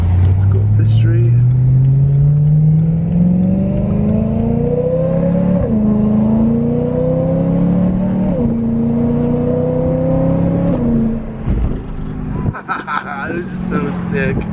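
A BMW M3 V8 fitted with a new valvetronic exhaust accelerates up a street, engine note rising through several gear pulls, loud and close from inside the car, with a voice speaking over it and a rough blip near the end.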